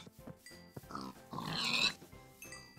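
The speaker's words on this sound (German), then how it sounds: "Da sind noch Schweine, nice." Pigs oink in Minecraft: a few short grunting snorts, then a longer, louder squealing oink, all fairly quiet and heard alone.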